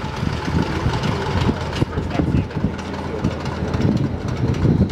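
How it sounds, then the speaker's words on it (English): Engines of a 1929 Ford Tri-Motor airplane running down as they shut off, a rough low rumble with uneven knocks and clatter, heard close with voices faintly in the background. "She's just now shutting her engines off."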